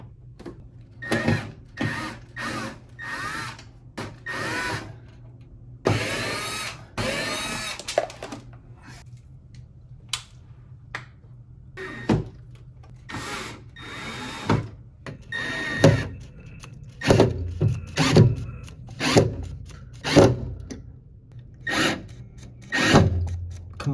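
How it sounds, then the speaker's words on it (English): A power drill in an apartment, fixing a cracked shelf mount, whirs in a string of short, sharp bursts separated by pauses, fairly close, with a longer run near the start and quicker pulses toward the end. "Come on, drill."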